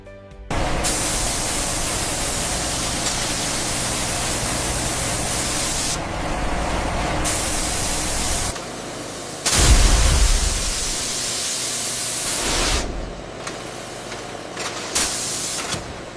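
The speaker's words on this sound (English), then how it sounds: "every double-edged safety razor blade must be cleaned before coating can begin" High-pressure spray jets cleaning double-edged safety razor blades on a factory line, a steady loud broadband hiss that cuts out and resumes several times, with a brief louder low rumble midway.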